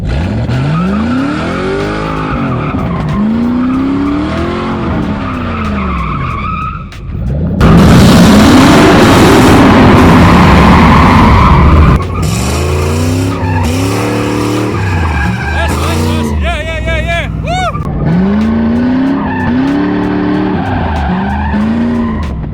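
A Ford Mustang doing donuts, engine roaring and revving in waves while tires squeal and skid loudly in a long burst in the middle, close by with some voices mixed in.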